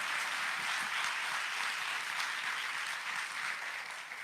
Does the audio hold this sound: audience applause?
yes